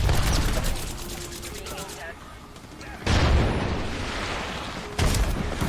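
Heavy gunfire in an Xbox video game, loud rattling bursts that ease into a quieter stretch and then surge back twice, thick and continuous with booming low rumble.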